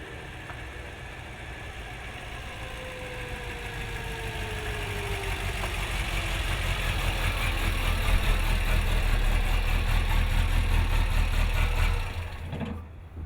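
A car engine idles with a clutch problem in a back alley, holding a steady low rumble throughout that grows slightly louder midway before cutting off abruptly near the end.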